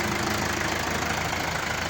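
The engine of a EUROFENG 544DXLC tractor runs at a steady idle, giving a continuous, even mechanical drone with a faint knocking texture and no other sounds.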